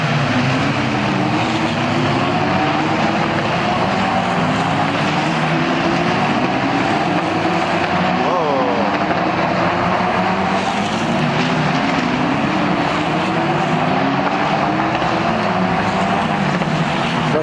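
Race cars, including a Lamborghini Murcielago GT1, circuit a track in a steady loud roar of engines with rising and falling passes, the engine tones sweeping up and down as cars go by, with no talk over them.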